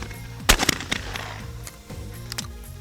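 A shotgun fires at a skeet target thrown from the high house, with one sharp, loud report followed by a few quick echoing cracks, then quieter impulsive pops and background noise.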